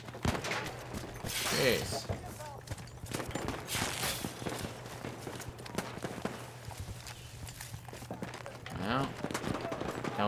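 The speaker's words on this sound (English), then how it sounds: "I hear shooting over here." Gunfire from online team deathmatch play in Battlefield 1 in the fog-covered Argonne Forest. Scattered distant shots and short bursts sound faint under a player talking and nearby footsteps.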